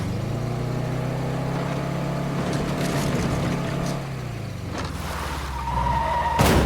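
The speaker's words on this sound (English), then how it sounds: "I also, from the sounds of it, need to repair my car first." Damaged car driving in the video game State of Decay 2, a steady droning engine hum with tonal whine that drops away midway, followed by hissing, skidding noise and a sharp jolt at the end, loud and continuous.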